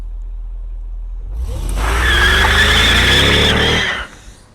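A 2014 Mitsubishi Outlander at a car market driving off, a close engine rev and tire noise swelling over a couple of seconds, then cutting away quickly as it leaves.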